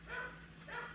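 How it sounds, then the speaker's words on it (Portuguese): A neighbour's dog barks twice from some distance, two faint, short barks about half a second apart over a low background hum. "o cachorro do vizinho começou a latir agora no final do vídeo"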